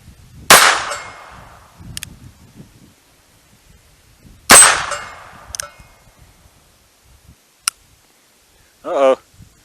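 Two loud, sharp gunshots about four seconds apart at an outdoor shooting range, each followed by a short ringing decay, with faint metallic clinks of rounds hitting targets, quiet handling noises and brief speech between them.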